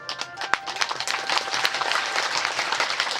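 Devotees clapping during a Shiv Mahapuran religious discourse, a sustained crowd applause of many hands, fairly close and steady, building slightly in density over a few seconds.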